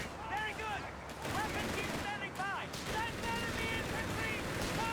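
Machine gun fire rattles continuously in a Company of Heroes 3 battle, with dense bursts of gunshots and explosive cracks under a busy soundscape of combat effects, loud and sustained throughout.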